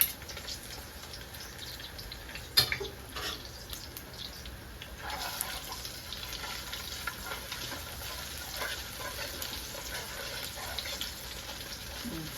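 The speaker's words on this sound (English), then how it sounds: "Frying the tomato paste throws out such a nice smell." Tomato paste and onions fry in a pan, giving a faint, steady sizzle with a sharp clatter early on and occasional stirring scrapes throughout.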